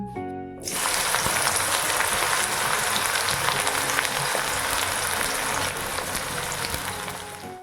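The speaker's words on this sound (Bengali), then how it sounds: "গরম তেলের মধ্যে কুচনো পেঁয়াজ দিয়ে দিলাম।" Chopped onions hit hot refined oil in a wok and burst into a loud, steady sizzle after a brief quiet start, crackling evenly to the end.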